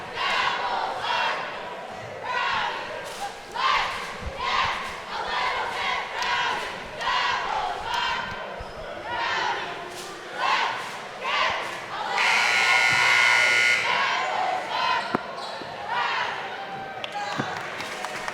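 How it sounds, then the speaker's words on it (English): High school cheerleaders cheering in a basketball gym during a boys' game, with rhythmic shouted chants and crowd noise echoing around the hall, punctuated by thuds and claps. "Bill Thomas, let's take a look at the Leominster High School cheerleaders that are over here."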